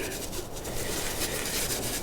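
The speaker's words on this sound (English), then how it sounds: "And an old paintbrush to rub it off" Steady bristly scrubbing of an old paintbrush rubbed against a greasy Kawasaki GTR 1000 swing arm, continuous and close, with no talking.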